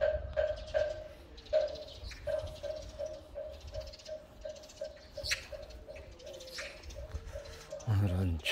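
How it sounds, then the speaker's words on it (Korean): Magpies call from around a roof ridge, with repeated short bright notes in a steady, uneven series over low background rumble and faint voices. "오늘은 참으로 많은 까치를 보는데 저 용마루 위에도 까치가 있었고"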